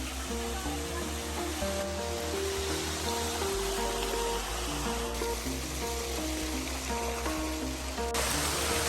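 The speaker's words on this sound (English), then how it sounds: "It actually has a little bit of waterfall because no one's here yet." Continuous rushing, splashing water from a small nearby waterfall into a hot spring pool at Tolantongo, Mexico, steady broadband hiss with faint tonal hum layered underneath.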